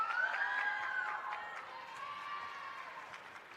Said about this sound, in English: There is a Bronx cheer there.